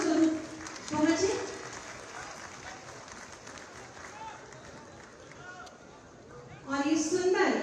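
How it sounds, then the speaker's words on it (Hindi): Audience applause at a Uttar Pradesh Diwas state ceremony, bursts of clapping rising at the start and again near the end, with murmuring and a faint voice in between. "आप सभी की जोरदार तालियां मंच पर प्रणाम स्वरूप पहुंचे।"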